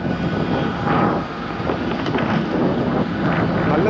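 A parked passenger jet's engine hums and whines near the aircraft on the apron after landing at an Edinburgh airport, a steady roar mixed with wind buffeting the microphone.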